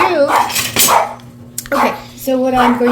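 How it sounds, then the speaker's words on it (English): A dog barks close by a few times, sharp and loud, with short pauses between barks and some kitchen clatter in the background. "Okay, so if you hear barking, please forgive me."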